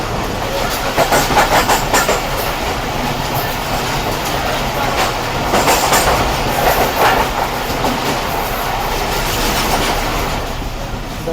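The Islamabad Express rolls through a station at Gujranwala in a loud, continuous rumble with rhythmic wheel clatter and faint metallic squeals, close by and steady throughout.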